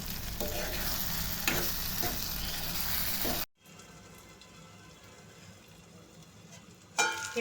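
Ground tomato fries with ridge gourd on high heat, a loud close sizzle that cuts out abruptly partway, leaving a quiet low bubbling before the sizzle briefly returns.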